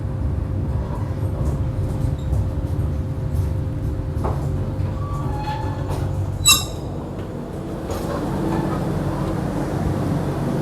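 The KA Gumarang train pulls into Tegal station at night, a low steady rumble of the moving carriages heard from inside, with a short sharp clank partway through.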